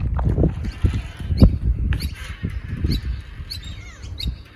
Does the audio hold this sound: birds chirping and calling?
yes